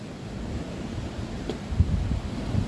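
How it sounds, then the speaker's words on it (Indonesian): Sea waves roll and break against a cliff at Apparalang beach in Bulukumba, with steady wind buffeting the microphone and a fuller surge near the end. "terlihat ombak menggulung memecah bibir tebing ya. Desiran ombak, sesekali angin laut menghembus ke daratan"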